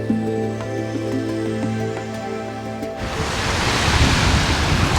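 Steady rushing Caribbean trade wind over light surf, with a soft tonal hum in the first part before broadband wash of wind and water takes over, louder toward the end.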